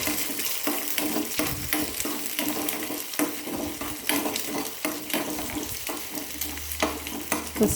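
Egg cracked into hot oil in a pan on a gas stove sizzles and crackles steadily, with scraping stirring strokes and clinks of a utensil throughout, close and fairly loud, no talking.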